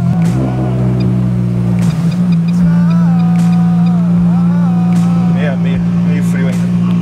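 Peugeot 205 engine idling steadily with a strong low drone, still running cold, heard up close with people talking over it throughout.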